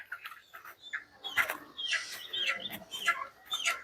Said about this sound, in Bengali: একশো পিস মোরগ এনেছি